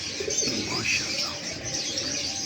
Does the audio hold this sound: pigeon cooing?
yes